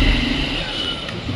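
Motorcycle engine droning steadily at close range while being ridden along a village road in the hills, with a sustained mid-pitched hum and wind noise and no clear revving peaks.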